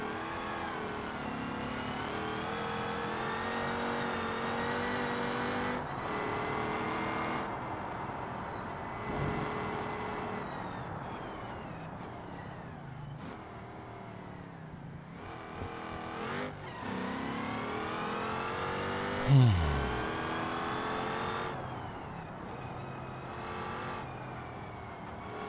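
A race car engine roars steadily with rising and falling revs, shifting gears repeatedly, a brief tire squeal near the end, from the video game BeamNG; no voices.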